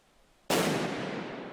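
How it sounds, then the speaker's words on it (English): A grenade thrown toward a bunker goes off in one sudden sharp blast, followed by a long, loud noisy rumble that decays slowly after quiet before it. "police resorted to throwing a grenade towards the bunker"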